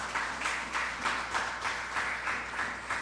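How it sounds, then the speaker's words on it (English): Audience at a community conversation gathering in a Tobago multi-purpose facility clapping in a lively round of applause, rising and falling in regular rhythmic swells as the crowd claps in time. "Give him another lusty round of applause."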